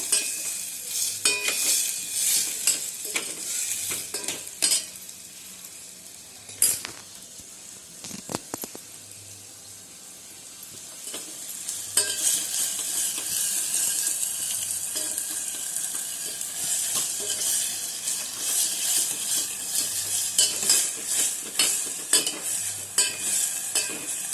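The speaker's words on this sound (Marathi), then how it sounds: "चांगले मॅच होईपर्यंत परतायचे मंद गॅस ठेवायचा" Upma of semolina and rice is stirred and sautéed in a pan on a low flame: continuous close sizzling with repeated scraping and clinking stirs, the sizzle swelling strongly in the second half, with no voices.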